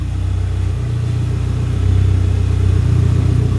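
A Mk4 Ford Escort RS Turbo idles with a steady, deep exhaust burble, close and continuous, swelling slightly louder partway through with no voices.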